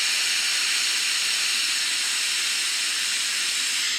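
Steam hisses steadily and loudly from the valve of a pressure cooker cooking split pea soup, a continuous broadband rush lasting throughout with no talking.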